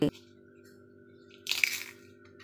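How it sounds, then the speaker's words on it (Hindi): A crispy homemade potato chip snapped by hand makes one short, bright crunch in the middle of a quiet kitchen, with a faint hum underneath and a brief knock at the start. "अब एक चिप्स मैं आपको हाथ से भी तोड़ के दिखाऊंगी और इसकी आवाज़ सुनिए बहुत ही कुरकुरे"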